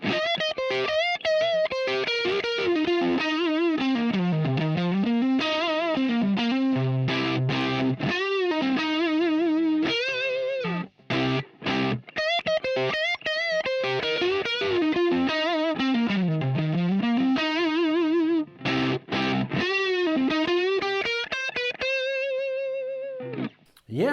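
Electric guitar playing bluesy solo lines through a fuzz pedal, Axis Fuzz or Dunlop Band of Gypsys Fuzz, with bending sustained notes and short phrases, loud and alone with no voices.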